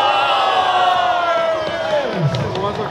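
A large indoor crowd at Sneaker Con Tokyo 2024 lets out a loud, sustained collective roar and cheer as free shirts are thrown out, the shouting swelling and then easing off.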